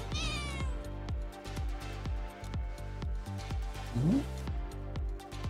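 A cat meows once, a rising cry partway through, over a loud repeating rhythmic music beat that dominates throughout.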